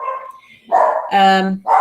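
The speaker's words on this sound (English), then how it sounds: "I've got no idea what the dogs are barking at" Dogs bark in short bursts, a couple of sharp, loud barks close by, separated by brief pauses.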